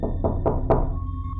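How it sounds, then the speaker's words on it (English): Three firm knocks land on a door in quick succession, evenly spaced and close by, each a dull wooden thud, followed by quiet with a faint steady hum. "there was another knock on my door"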